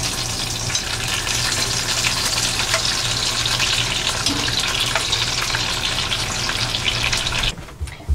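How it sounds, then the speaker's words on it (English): Bacon fries in a pan for a bacon cheddar ranch dip, giving a loud, steady, close crackling sizzle that runs unbroken with no talk, then cuts off abruptly near the end. "while we're waiting for the bacon to finish cooking"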